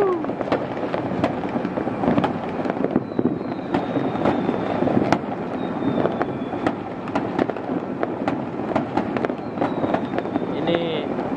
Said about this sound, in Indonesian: biasanya yang disebut pesta kembang api akhir tahun atau tahun baru itu selalu menjadi penantian